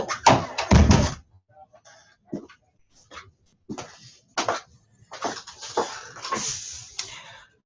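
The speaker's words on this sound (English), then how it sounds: "I'm going to close my office door" An office door closes with a solid thunk near the start, followed by scattered knocks, shuffles and rustles of someone moving around the room, with no one talking.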